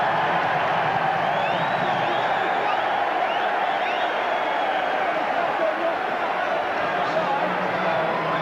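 The home crowd at a 1991 Duke at Virginia college basketball game roars loudly and steadily after a foul is called on Duke, with a commentator speaking over the din.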